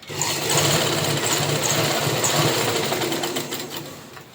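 A sewing machine runs steadily while stitching the side seams of a long skirt, a continuous close mechanical whir with rapid needle chatter that holds for several seconds before easing slightly at the end.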